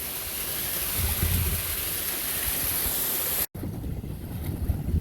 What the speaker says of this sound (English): Lots and lots of little streams and whatnot. Nice little rapids here.